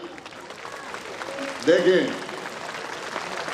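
Brief burst of applause from a crowd at an election nomination rally, rising and fading within about half a second while someone speaks over a loudspeaker.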